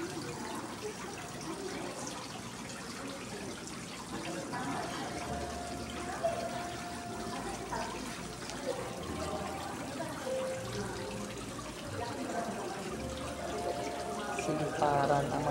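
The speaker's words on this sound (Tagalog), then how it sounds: "yung para nasa probinsya ka yung daloy ng tubig nila. Ang ganda. Sarap pakinggan sa tenga" Water flows steadily in a rural provincial stream, a continuous rushing wash that runs through the whole stretch, with voices talking over it.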